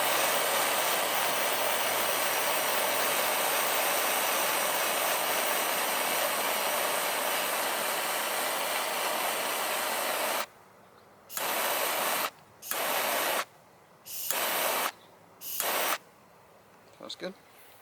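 A gas torch flame roars steadily while heating a crimped wire connection during vibrator wiring, a continuous close broadband hiss that then cuts on and off in several short bursts.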